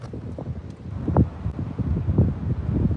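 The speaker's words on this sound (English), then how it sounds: "Because it is extremely windy out here." Strong wind gusts at Gooseberry Cove, Cape Breton Island, Nova Scotia, buffet the microphone in heavy low rumbling bursts, with rustling throughout and no voices.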